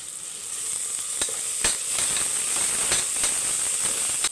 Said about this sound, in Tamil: இப்போ பாருங்கள் தக்காளி நல்லா வதங்கிடுச்சு